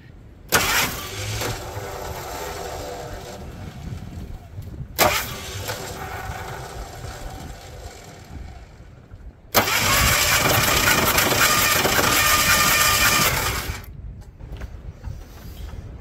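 A Ford F250 pickup left sitting in a pasture for eight years cranks in three loud bursts of starter whirring separated by brief pauses, the starter kicking out between attempts, the last crank longest and steady.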